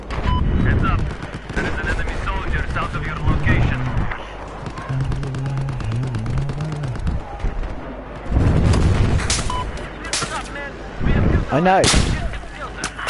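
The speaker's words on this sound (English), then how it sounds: "They're shooting at me." Gunfire and explosions in Battlefield 4: repeated loud bursts of shots and heavy booms, close and sharp, with a player talking briefly between them.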